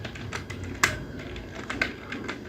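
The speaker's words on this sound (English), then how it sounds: "so I will type potatoes and press enter" Someone typing on a computer keyboard, a handful of quiet, close key clicks at an uneven pace, with one sharper, louder keystroke that sounds like the Enter key.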